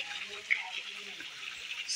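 A steady rush of falling water from a waterfall at Sitakunda fills the air with an even, hissing roar, continuous and fairly close, with a voice faintly present at times.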